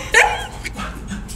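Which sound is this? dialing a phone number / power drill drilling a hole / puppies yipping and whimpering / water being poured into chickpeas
puppies yipping and whimpering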